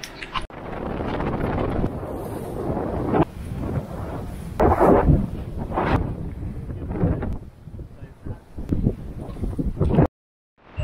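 Wind buffeting a sailboat at sea ahead of an incoming low-pressure system, loud rough gusts and rumbling microphone wind that surge and ease, with a brief drop-out near the end.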